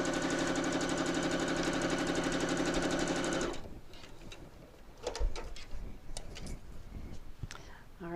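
Sewing machine stitching a quarter-inch seam on a nine patch quilt block runs at a steady, even pace for about three and a half seconds, then stops, leaving quiet handling and faint voices.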